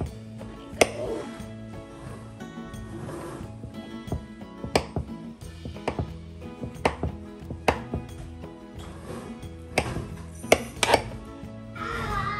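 Knife cutting through a tiramisu cake makes a series of soft, irregular knocks and taps against the plate, close by and spread across the whole stretch over light background music.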